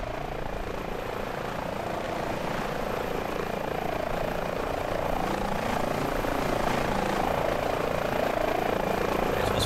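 Helicopter flying toward an offshore wind farm platform in Microsoft Flight Simulator, a loud continuous rotor thrum and turbine whine with rapid blade chop, steady throughout and rising slightly toward the end.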